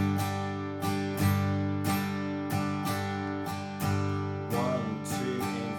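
Acoustic guitar strums a rhythm pattern of downstrokes and upstrokes that leaves out the third beat, so there is a gap in each bar. The strums are steady, moderately quiet and close, and nothing else is heard.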